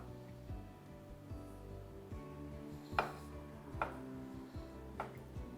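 A knife cuts butternut squash into large chunks on a board, giving three or four sharp, separate knocks at uneven intervals over a quiet hum in the room.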